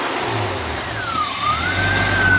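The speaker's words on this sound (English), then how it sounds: "We just started it up for the first time after doing a whole bunch of work on it." Car engine running smoothly after repairs that included installing a rear O2 sensor and upgrading the fan, a steady close hum with a gentle rise in revs, no talking.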